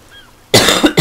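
A man coughing hard, close to the microphone: after a quiet moment come two harsh, loud coughs, the second shorter than the first, with no words spoken.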